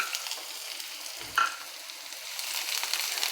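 Onion frying in oil in a pan sizzles steadily at low level, with one brief clatter of stirring partway through and a slight rise in crackle toward the end.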